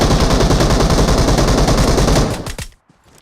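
Loud, continuous machine-gun fire in a video game, a dense rapid stream of close shots that breaks into a few last bursts and then stops.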